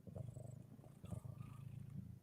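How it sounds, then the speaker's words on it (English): A cat purring steadily and close by, a continuous low rumbling hum with slight rhythmic pulses that runs for about two seconds with no talking. "I literally think there's nothing more calming than a cat purring."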